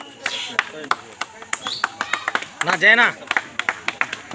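Applause for the first-place doubles winners at a badminton tournament in Mahanandi, Kurnool district, heard as a scattered run of sharp claps under an announcer's voice.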